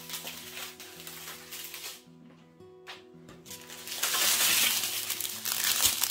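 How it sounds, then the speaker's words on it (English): Plastic bags crinkle during an unboxing of paintings, with irregular crackling rustles that become a loud, dense crinkle near the end, along with faint clinks and hums in the background. "Sorry about the crinkling."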